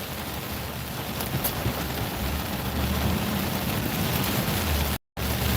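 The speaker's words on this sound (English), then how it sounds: "it's fucking pouring down rain" Heavy rain pours down in a dense, steady hiss that grows slightly louder, broken by a brief dropout of silence near the end.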